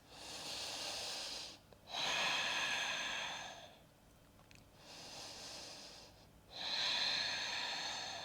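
Slow, deep breaths taken while holding a plank pose moving into downward dog during a yoga flow: three long, airy inhale-exhale cycles, close and soft, with no talking.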